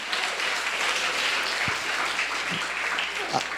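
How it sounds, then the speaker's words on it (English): Audience applause at a youth conference opening address, a steady round of clapping from a crowd that holds evenly for several seconds with no talking. "give yourself a round of applause"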